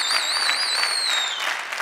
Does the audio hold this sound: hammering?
no